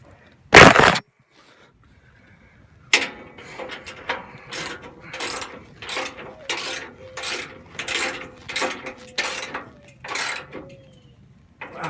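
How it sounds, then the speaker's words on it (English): Bolts fixing a bull bar bracket to a Ford F150 frame are tightened with a ratchet, heard as a sharp single click and then a steady run of close, rhythmic ratcheting strokes. "we're going to completely tighten down, snug up the bolts that attach the bracket to the frame of your vehicle"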